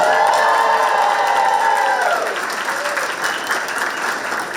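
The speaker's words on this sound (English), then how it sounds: "Give Woodmore Elementary a round of applause." A school audience at a Hamilton County Schools pitch event applauds and cheers loudly for Woodmore Elementary, a dense wash of clapping with high whoops at first that tapers slightly toward the end.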